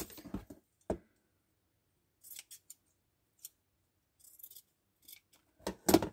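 Scissors cutting a strip of craft material in two for a recycled Christmas gnome, several crisp close snips spaced irregularly through quiet, with a louder final snip.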